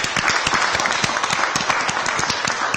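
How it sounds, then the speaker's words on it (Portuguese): Colleagues give a studio round of applause for an afternoon show, with dense, sharp clapping from a small group close by, steady for the whole stretch with no voices over it. "Eu pediria aos meus colegas uma grande salva de palmas ao Show da Tarde."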